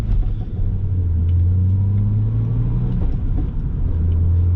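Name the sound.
older BMW car driving, clunky transmission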